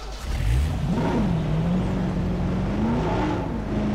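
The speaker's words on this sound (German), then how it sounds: "Und ich fahre mal mit dem Wagen." A car in Jurassic World Evolution drives with a steady engine hum that rises and bends in pitch as it accelerates, loud and continuous with no talk.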